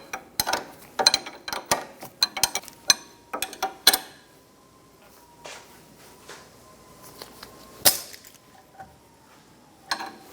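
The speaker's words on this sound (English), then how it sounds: "We're going to use a pair of locking pliers to grab the shoulder on the back and then snug down the nut." Metal tools clink and click on a Honda Accord front suspension as locking pliers hold a ball joint while its nut is snugged down, with a run of sharp ratcheting taps followed by scattered quieter clinks, close by and no talking.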